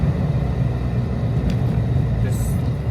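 A Mercedes 190E with an engine swap accelerates in fourth gear at low speed, giving a steady, deep engine rumble and road drone heard from inside the car.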